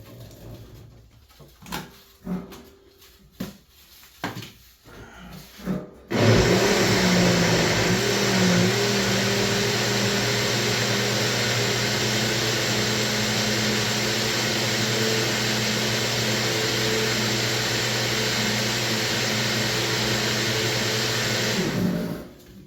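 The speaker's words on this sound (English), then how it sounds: "those blended pretty good." Blueberries are blended for steam distillation: after a few short clunks and knocks, a loud blender motor kicks in and whirs steadily at close range for about sixteen seconds before cutting off.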